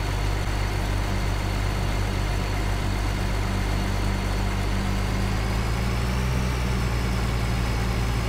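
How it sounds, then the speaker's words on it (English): Tractor engine in Farming Simulator 2013 pulling a trailer while seeding fields, a steady low droning hum that climbs slightly in pitch as the revs rise, continuous with no talk. "As the engine revs increase while it's powering the trailer behind."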